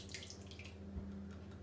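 Homemade buttermilk pours into a mixing bowl as a soft, steady liquid trickle over a faint low hum, quiet and continuous.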